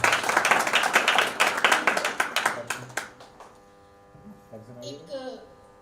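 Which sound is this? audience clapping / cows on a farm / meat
audience clapping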